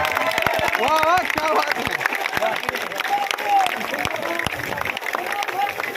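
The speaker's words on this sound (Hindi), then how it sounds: "जोरदार ताली बजाइए।" Crowd applause at a Jan Suraaj Party gathering in Bihar, greeting the new state party president: scattered sharp claps under loud cheering and shouting voices throughout.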